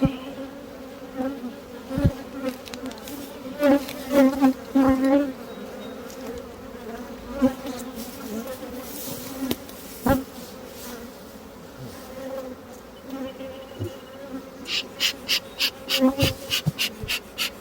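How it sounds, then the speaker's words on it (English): Honey bees buzz steadily around the hives, with individual bees droning close past the microphone now and then over a constant hum. "There's quite a few hives here."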